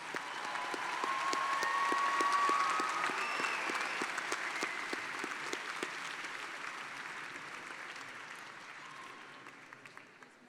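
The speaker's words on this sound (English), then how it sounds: "Please give another round of applause to the master's degree graduates." Sustained applause from a large commencement audience honoring master's degree graduates, a steady wash of many hands clapping that swells early, then slowly thins and fades toward the end, heard alone without talk.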